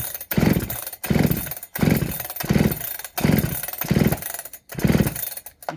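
A Bradley G395xp clone chainsaw runs loud and close, its two-stroke engine revving up and dropping back in about six rhythmic bursts, each surge separated by a short dip to idle.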